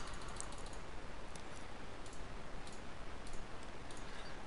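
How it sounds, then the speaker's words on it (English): Faint, scattered clicks of computer keyboard keys pressed during spreadsheet work, the Control key held down, buried in steady background hiss with no talk. "I do this by holding down the Control key on my keyboard."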